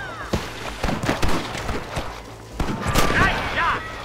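Gunfire in the Western game Red Dead Redemption, with sharp scattered gunshots cracking at an irregular pace, some close and loud, while players talk and shout over the shooting.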